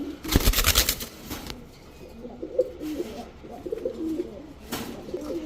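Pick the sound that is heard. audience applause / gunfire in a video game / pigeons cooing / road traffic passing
pigeons cooing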